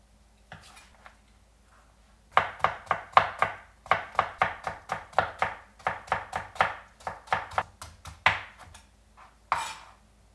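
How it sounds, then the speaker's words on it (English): A knife cuts cucumber into thin strands on a board, a run of about twenty crisp, evenly paced chopping taps, close and clear, after a quiet start with a couple of lighter knocks. "cut this into thin strands by using a technique called katsuramuki"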